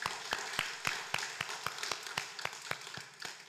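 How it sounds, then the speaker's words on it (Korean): Church congregation clapping to celebrate members' birthdays during a Sunday service, a steady run of individual hand claps in a fairly even rhythm, moderately close, with no talk over them. "우리 박수로 축하합시다."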